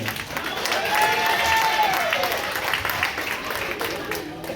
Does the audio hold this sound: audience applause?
yes